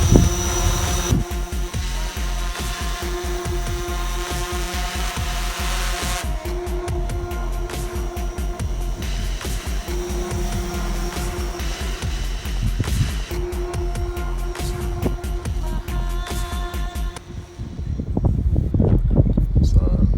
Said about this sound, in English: this is the Typhoon H. It's a Hexacopter